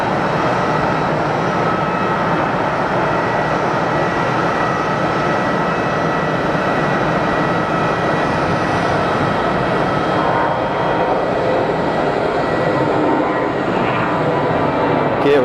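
An airplane takes off at Geneva Airport, a loud sustained roar of jet engines holding steady for about fifteen seconds without any speech.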